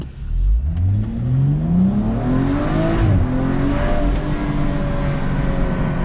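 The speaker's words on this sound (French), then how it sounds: "Alors il y a un bruit, le bruit du moteur." A BMW M135i engine accelerating through the gears, its pitch rising in long sweeps with a brief dip at a shift, loud and close throughout with no talk.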